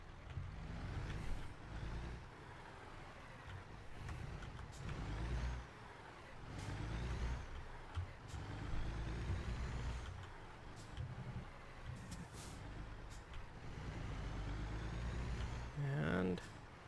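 An American Truck Simulator truck pulling a small trailer rumbles with a steady low engine drone, with a few hissing air-brake bursts near the end while a person talks over it.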